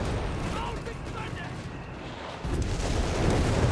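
Artillery and gunfire rumble in a Company of Heroes 3 battle, with dense low booms and distant shots running steadily underneath a commentator's voice.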